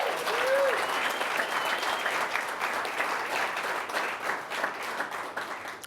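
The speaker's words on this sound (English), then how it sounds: "Let's do a round of applause for that." Sustained applause from a live audience at a company presentation, dense and steady clapping filling the room for about six seconds.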